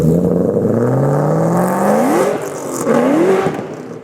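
A Shelby 1000 with a 5.2-liter Whipple supercharged V8 of nearly 1,000 horsepower, driven in the Forza Horizon racing game: the engine revs up in rising sweeps with a supercharger whine, briefly drops on a gear change, then climbs again, loud and close, with no talking.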